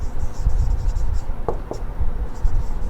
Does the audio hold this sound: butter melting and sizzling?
no